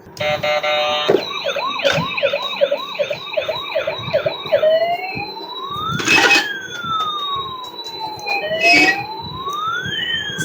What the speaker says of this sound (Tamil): ஆம்புலன்ஸ் வந்துட்டு இது கொஞ்சம் யூனிக்கான ஒரு டாய்.